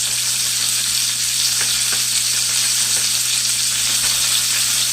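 Fish frying in a pan for fried fish and cheesy grits, a steady dense sizzle of hot oil, close and continuous with faint occasional pops and no talk.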